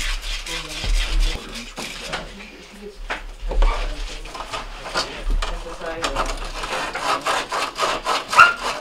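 Copper refrigerant lines removed from a Whirlpool refrigerator compressor being cleaned, with repeated rasping scrubbing strokes in an uneven rhythm, close and moderately loud, plus occasional metallic clinks.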